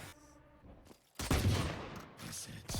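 Valorant gunfire: a quiet stretch of in-game ambience, then a sudden loud burst of shots that rattles on for a moment before easing into lower, continuing game noise.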